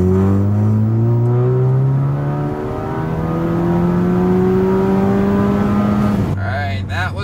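Turbo-swapped MK6 VW GLI with an IS20 turbo running boosted through a JB4, pulling hard at full throttle from inside the cabin, engine droning loud and rising steadily through a gear before a shift near the end.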